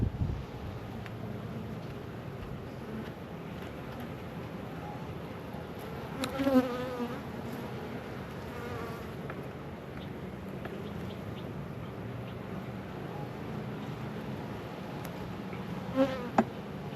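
Honey bees buzz steadily throughout a Flow Hive inspection, a dense close-up drone of many insects with a few louder passes near the microphone.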